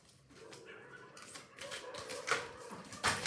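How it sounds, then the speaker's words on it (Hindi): Playing cards fall and scatter onto a surface in a quick run of faint, light taps and slaps that grow a little louder toward the end, with no talking. "Okay, so many cards fell down."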